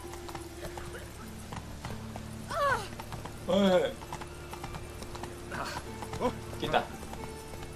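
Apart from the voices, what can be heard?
horse hooves climbing stairs in The Witcher 3 video game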